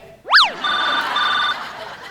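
Telephone ringing: a quick rising whoosh, then two trilling electronic ring bursts close by, with faint voices in the background.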